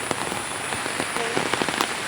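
Steady rain pours down outdoors at a nature park, a dense hiss of drops striking surfaces with scattered sharper patters throughout.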